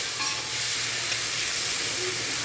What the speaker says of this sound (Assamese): বিলাহীখিনি ভালদৰে ভাজিব লাগিব।